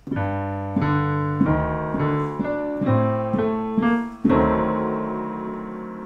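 Solo piano plays the Black Books TV theme, a sequence of sustained chords with bass notes changing roughly every second, each struck cleanly and left ringing, with a firmer accented chord near the end.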